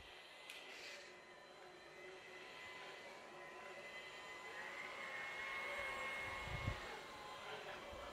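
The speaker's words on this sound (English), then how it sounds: "I'm going to set it into auto mode and start the vacuum" A steady motorized whir from a Kobalt 24V cordless stick vacuum running on carpet in auto mode hums continuously, faint and even, with a small knock near the end.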